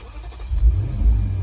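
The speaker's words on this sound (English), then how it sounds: "Just hear that 5-liter V8 roar to life." The 5-liter V8 of a 2022 Lexus IS 500 Launch Edition starts up close by, a deep rumbling catch that swells into a brief low rev.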